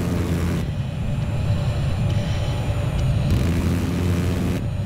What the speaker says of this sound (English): I spotted a hostile jet.